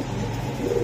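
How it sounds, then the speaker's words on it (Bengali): High-flying racing pigeons kept in a loft make a soft, low cooing that carries steadily through a short moment, close and fairly quiet with no talk over it. "দেখছেন জিমের কবুতর"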